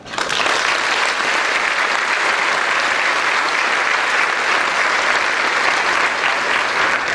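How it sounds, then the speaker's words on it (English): A large audience at a dental college graduation ceremony applauds continuously and evenly, a dense, loud wash of many hands clapping with no pauses, sustained for several seconds. "You now applaud."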